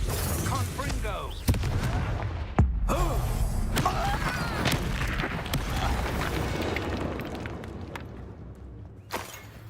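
Confringo explosion spells blasting in Hogwarts Legacy, sharp booming bursts at about 1.5 and 2.6 seconds over a dense, constant rumble of game effects and magical crackle, with a voice talking throughout.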